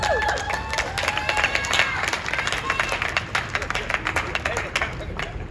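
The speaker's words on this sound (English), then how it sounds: "another round of applause for Joe" An audience applauds at a boxing press conference for a Ryan Garcia fight announcement, a dense, steady patter of many hands with crowd murmur underneath, fairly distant and lasting throughout.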